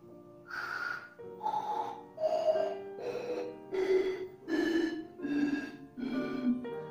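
A run of eight bright struck tones from water-filled glass bottles, one roughly every second, each ringing note pitched lower than the one before.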